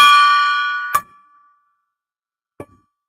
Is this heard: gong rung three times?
yes